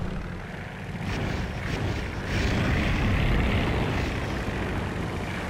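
Propeller plane engine in the Crimson Skies video game, a steady, loud, broadband drone that swells slightly midway and holds constant throughout, with no talking over it.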